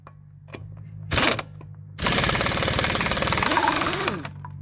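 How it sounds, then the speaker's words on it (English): A slightly weak-sounding impact wrench with a 21 mm socket loosens lug nuts on a Ford Endeavor during front wheel bearing work. One short burst is followed by a longer steady rattling hammer of roughly two seconds, loud and close. "And if my impact sounds a little bit weak, it probably is."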